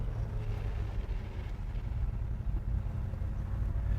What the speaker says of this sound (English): she's upshifting and downshifting nice.